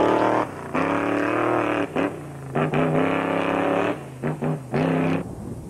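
Ford Bronco rally car racing flat out on a forest and desert rally stage, its engine roaring loud and close in repeated bursts, cutting out briefly between gear changes and throttle lifts before surging again.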